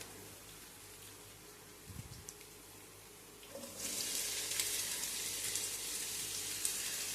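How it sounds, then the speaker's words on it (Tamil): Chopped onions hit hot oil with ginger-garlic paste in a pan. After a quiet stretch, a loud, steady sizzle bursts in and holds as the onions fry. "இப்போ நாம் இது ரெண்டுத்தையும் நல்லா ஃப்ரை பண்ணிகிட்டே இருக்கலாம்."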